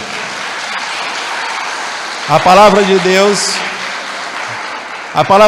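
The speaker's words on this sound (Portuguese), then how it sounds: "Pode aplaudir." Applause from a Portuguese-speaking church congregation at a worship service, a steady broadband patter that runs under a preacher's voice, with the crowd noise continuing as he speaks over it.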